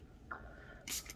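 Spray paint hisses onto a stencil: a faint mechanical tone, then a short loud burst of spray followed by a quick second puff, close and alone.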